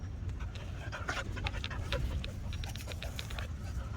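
A dog pants steadily and close by for a few seconds, quick breaths over a low background hum.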